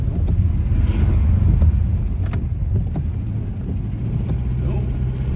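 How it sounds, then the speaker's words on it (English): An old, noisy car drives along with a steady low engine rumble and road noise throughout, scattered clicks and rattles, and people talking over it. "doing a demo of our car here, making sure all the kinks are worked out"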